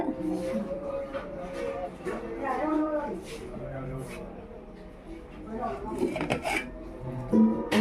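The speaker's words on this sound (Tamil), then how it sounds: "பாத்திரம் கழுவிட்டு இருக்காங்க" Pots, pans and dishes clink and clatter intermittently as they are washed at a village house in Kerala, while people talk nearby throughout.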